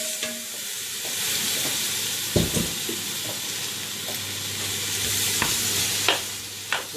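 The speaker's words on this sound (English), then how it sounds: "we're just going to pour these leeks into our oil" Leeks tipped into hot oil for potato and leek soup, setting off a steady close hiss of frying that swells and holds throughout, with a few clinks and scrapes of a utensil and no talk.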